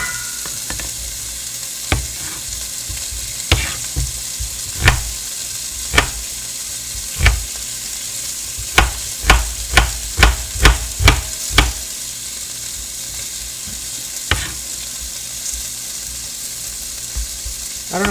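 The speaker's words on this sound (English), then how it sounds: "Turn some of these around, try and make sure that all the sides are getting browned. I need to sear this a bit more than I thought." Lamb pieces sear and sizzle in a pot for stew, a steady loud frying hiss broken by sharp clacks and scrapes as the pieces are turned, with no talking.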